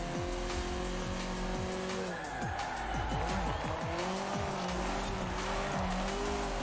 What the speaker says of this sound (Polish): no to słychać, ten silnik tam, on chce jechać szybciej